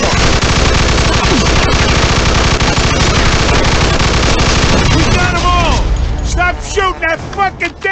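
Loud, sustained automatic gunfire from a shootout in the video game Mafia 2 Definitive Edition, a dense rapid rattle that thins into scattered shots and ringing near the end.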